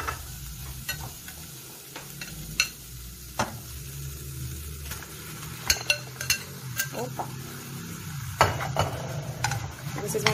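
Ground beef being added to a pot of sautéed aromatics and stirred, with a low frying sizzle under scattered spoon-on-pot clinks and scrapes, close and moderately loud.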